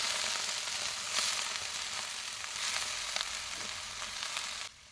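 Cabbage frying in hot mustard oil with five-spice in a wok, a steady dense sizzle with faint stirring, continuous and close, stopping abruptly near the end.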